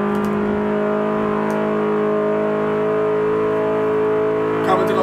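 A 1.6-litre car engine screams at sustained high revs in Forza 5, its steady harmonic drone loud and close throughout, with a brief burst of noise near the end.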